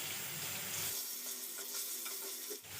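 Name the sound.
potatoes frying in mustard oil in a wok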